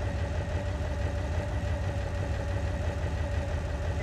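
A three-liter car engine idles in the driving simulator BeamNG.drive, a steady low rumbling drone holding an even level throughout with no other sounds.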